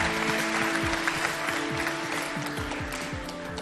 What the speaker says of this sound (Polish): Brawa, zapraszam